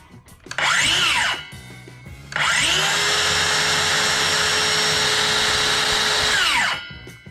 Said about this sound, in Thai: ใบเลื่อยเนี่ยหลังจากเราปล่อยสวิตช์แล้วเนี่ย มันหยุดได้เร็วมากเลยนะครับ